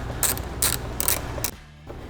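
A ratchet fitted with a T40 Torx bit clicks in quick, close bursts while loosening the side mirror bolts on a Jeep Wrangler JL, four short ratcheting runs ending in a pause.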